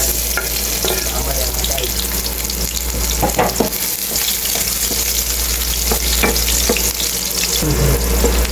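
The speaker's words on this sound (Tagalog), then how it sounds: "ito na rin yung gagamitin natin para igisa ang bawang at sibuyas" Garlic and onion sautéing in oil for Filipino menudo, in the same pan just used for carrots and potatoes, producing a loud, dense, continuous sizzle with scattered scraping of a spatula stirring, close up and without speech.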